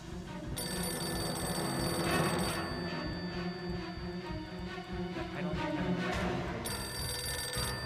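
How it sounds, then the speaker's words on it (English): A telephone rings with repeated bell bursts, a long ring at the start and another near the end, loud and close over a steady background hum. "It's probably a phone."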